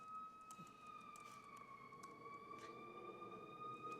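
A distant fire station siren wails steadily and continuously, with a rising-and-falling tone heard from some way off over a quiet indoor courtroom background.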